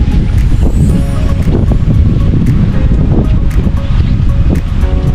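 Floodwater released from a dam during Typhoon Kristine rushes past in a loud, continuous low roar, mixed with gusting wind buffeting the microphone.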